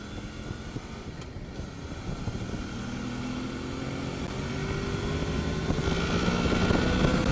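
A Honda VFR800 motorcycle engine hums steadily as its pitch and loudness climb gradually while the variable valve timing kicks in, all under a wash of wind noise with no talking.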